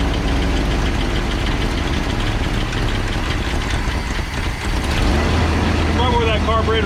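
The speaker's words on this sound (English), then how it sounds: "We got a little lifter, a little ticky-tacky." A Chevrolet C10 square-body truck engine idles steadily and loudly up close, with a faint rapid lifter tick running through the rumble. A carburetor rebuild is due. A short squeaky chirp appears near the end.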